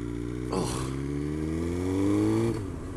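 A Triumph Explorer motorcycle engine hums steadily while riding, with a gear change and then a rising rev that climbs over a couple of seconds before easing off, loud and close.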